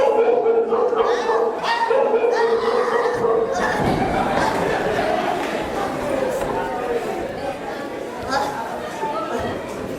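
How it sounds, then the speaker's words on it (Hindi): A dog barks and yips close by while people talk loudly over it in a busy, noisy scene. "कुत्ता ला जा कि कुत्ता ला जा"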